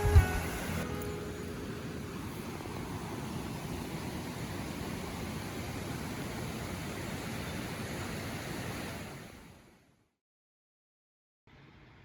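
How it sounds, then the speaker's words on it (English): Water flows in a steady, broad rush, heard from a campsite bench in the Brecon Beacons. The sound holds constant for about nine seconds before cutting to silence. "I think I might sit at this lovely bench here and listen to the water."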